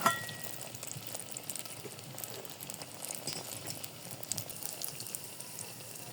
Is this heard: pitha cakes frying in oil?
yes